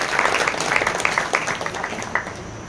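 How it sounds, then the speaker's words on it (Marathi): Applause from an audience at a guidance meeting, honoring the children: a steady wash of many hands clapping for nearly three seconds, fairly loud and continuous with scattered sharper claps, no voices over it. "मी तर म्हणतो एकदा मुलांसाठी जोरदार टाळ्या झाल्या पाहिजे आपल्या सर्वांच्या"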